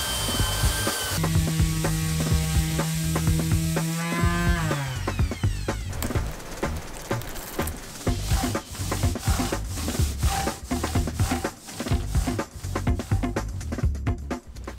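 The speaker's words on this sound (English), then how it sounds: "I have the best sander in Kamp." A power sander runs over wooden boards during an interior cabin build on abandoned land, giving a loud, steady abrasive rubbing with rhythmic pulses throughout, preceded by a brief tonal mechanical hum.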